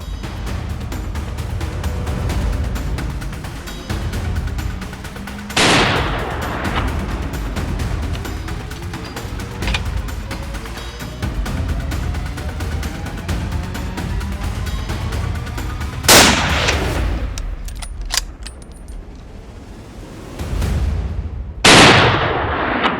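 Rifle shots fired at a group of wild boar during a hunt in Portugal's Alentejo, three sharp loud cracks spaced several seconds apart over steady outdoor background noise.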